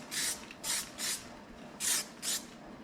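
A spray gun lays a tack coat of paint during rust repair on a Chevy C10/20 rocker panel replacement, giving five short, close hissing bursts separated by brief pauses.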